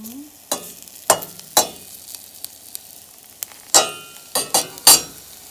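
Onions, already starting to burn, sizzle and fry in a pan for an omelette with collard greens, under a soft steady hiss broken by several sharp, close utensil scrapes and stirring clacks.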